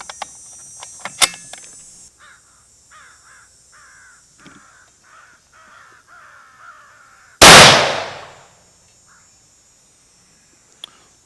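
A single loud, sharp shot from a Savage 110 Elite Precision rifle in .338 Lapua Magnum cracks out and rings off, after several seconds of quiet outdoor ambience with crows cawing in the distance.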